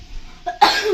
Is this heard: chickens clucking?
no